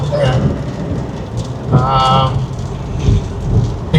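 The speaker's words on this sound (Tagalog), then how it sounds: "Pero ito, tapon, biglang bumagsak ang ulan." Heavy rain pouring down during a sudden downpour with thunder, a dense loud roar of water, close, with brief speech over it.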